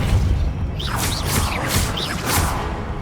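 Repulsor spells fire in Hogwarts Legacy, throwing a rapid series of whooshing magical bursts with booming low thumps and bright swirling tones, loud and continuous over the whole stretch.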